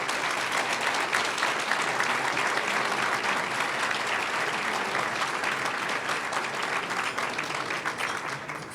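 An audience applauds at a luncheon meeting of a lawyers' institute, a sustained, dense clapping from a large crowd that holds steady and fades slightly toward the end.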